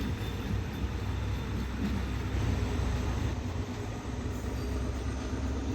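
A diesel train engine rumbles steadily and loudly as Thai passenger train 445 pulls away from Chaiya station, a continuous low drone with no voices.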